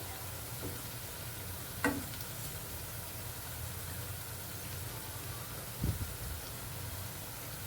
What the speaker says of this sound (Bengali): খুব সুন্দর ভাজা হচ্ছে তো লো ফ্লেমই ভাজতে হবে